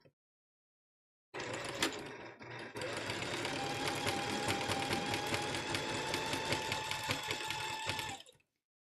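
A sewing machine runs a zigzag stitch through rope to shape a bowl, a loud, steady, rapid mechanical chatter that starts after a brief pause, with a short hitch, then runs for about seven seconds before stopping.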